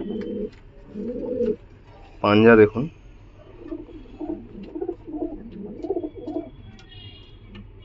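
Giribaz pigeons coo in soft, low, rolling phrases, repeated several times at close range, while someone talks over them.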